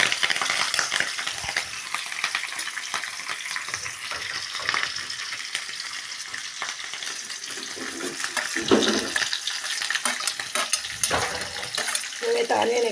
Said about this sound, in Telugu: ఆనియన్ వేస్తున్నా.